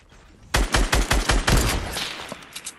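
Automatic gunfire in the Fortnite video game, a rapid burst of about six loud evenly spaced shots followed by a few fainter scattered shots.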